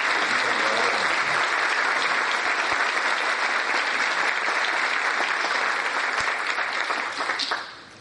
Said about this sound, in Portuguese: peço uma salva de palmas à nossa advogada